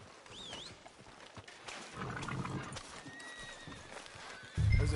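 A horse in a video game whinnies with a rising cry, then its hooves clip-clop steadily over ambient outdoor sound, with a louder thump at the end.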